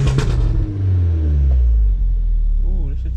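A turbocharged R56 Mini engine rumbles deeply on a test drive, a loud low drone that swells and settles, with people talking over it.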